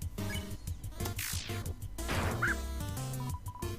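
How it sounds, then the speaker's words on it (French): A small dog barking in the video game Undertale, several quick yipping barks mixed with game sound effects and a rising swoosh, loud and close throughout. "Mini chien."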